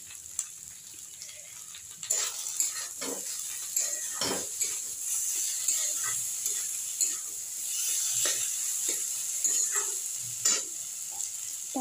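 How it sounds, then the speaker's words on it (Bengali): Soybean chunks and potato sauté in a hot pan, a steady close sizzle broken by repeated spatula scrapes and knocks against the pan. "তারপর আমি এটা সব মিলিয়ে অল্প কষিয়ে নেব"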